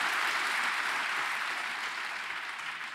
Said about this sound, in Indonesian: Saudara kehilangan kesempatan untuk bertepuk tangan buat Tuhan Yesus.